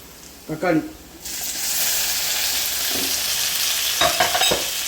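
Onions for a Madras-style chicken curry fry to golden brown in a pan with a steady, close hiss of sizzling oil, broken by a few sharp clanks of a stirring utensil.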